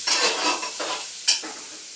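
Cumin and mustard seeds sizzle and crackle in hot oil, a dense, steady hiss close up with a few sharper pops, no voices.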